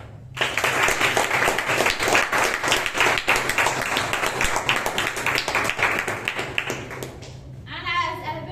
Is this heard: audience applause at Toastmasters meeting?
yes